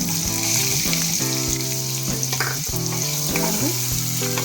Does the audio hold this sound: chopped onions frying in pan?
yes